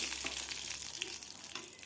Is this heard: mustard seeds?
yes